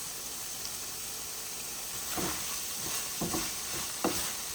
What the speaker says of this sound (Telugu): ఇది ఇప్పుడు మంచిగా ఫ్రై అవ్వాలి.